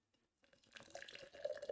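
Nitro Pepsi poured hard from a can, splashing and fizzing as the liquid hits, starting faint and building into a steady, close pour.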